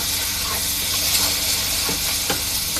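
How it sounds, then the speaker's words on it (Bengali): Taro stolons frying in oil with fermented dried fish (chepa shutki) in a pan, a steady close hiss of sizzling with a few faint stirring scrapes. "এখানে একটু তেলে ভাজা ভাজা হইলেই আমরা নামাই"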